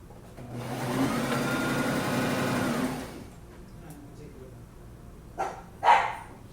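A sewing machine whirs for a few seconds. After a pause, a dog gives two short barks in the background of the home sewing room.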